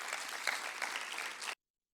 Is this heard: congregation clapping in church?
yes